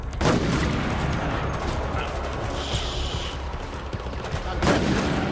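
Sustained gunfire in the video game Resident Evil Operation Raccoon City, a dense, continuous rattle of shots with louder bursts near the start and end, with no clear speech.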